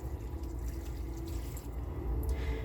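Bone broth is poured into an Instant Pot, making a soft, continuous liquid trickle that stays faint and low throughout, with no talking.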